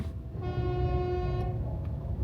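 A single sustained horn blast sounds for about a second over low traffic rumble, with no voices.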